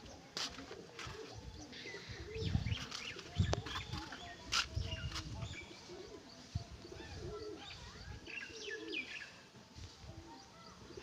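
Pigeons land with flapping wingbeats and soft bumps, then coo in low, throaty murmurs, mixed with scattered chirps and rustling nearby, all fairly faint against an outdoor background.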